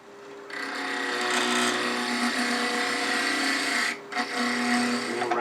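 A wood lathe spins a cattail piece while it is shaped round, a loud, continuous whirring drone with a tool scraping against the wood and a brief dip about four seconds in.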